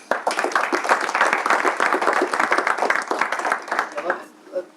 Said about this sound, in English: let's give some claps to Arturs.